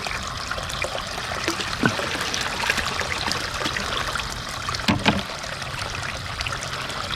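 Water is tipped out of a container holding tadpoles, small fish and aquarium stones at an outdoor pond, giving a steady close trickle and dribble with a couple of brief louder splashes, and no voices.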